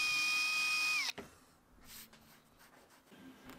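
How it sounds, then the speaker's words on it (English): A power drill whines steadily for about a second while boring holes in a wooden dartboard cabinet panel, then cuts off, leaving faint handling and scraping noises. "I could remove the jig and drill them out to the correct depth."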